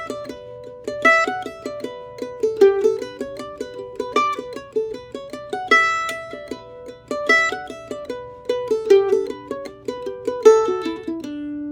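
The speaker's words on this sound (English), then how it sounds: "only accent the first beat" A solo mandolin plays steady, even downstroke strumming with an accent only on the first beat of each measure. The bright picked chords are close and clear, with a regular pulsing rhythm and no voices.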